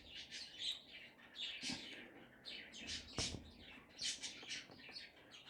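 Faint birds chirping and twittering in the background, quick repeated calls scattered across the clip with a few soft knocks nearby.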